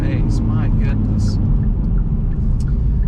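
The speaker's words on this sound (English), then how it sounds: "It does those little backfires in the exhaust," Exhaust of a 2020 Hyundai Veloster N hot hatch crackling and popping, a loud constant engine rumble with small sharp backfire pops scattered over it.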